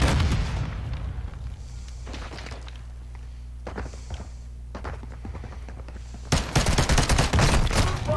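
Pistol gunfire in the Call of Duty video game: a series of sharp shots, including a dense cluster near the end, loud over a steady low game rumble with no talk.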